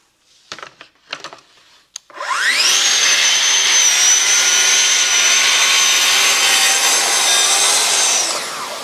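Festool plunge saw cutting along an FS 1400 guide rail: a few light clicks and knocks, then the motor spins up into a loud, steady high whine for about six seconds of continuous cutting before it begins to wind down.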